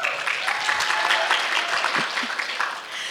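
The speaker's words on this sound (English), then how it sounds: "so you have to clap" An audience at a community awards ceremony claps, a dense, lively burst of applause filling the room for about three seconds.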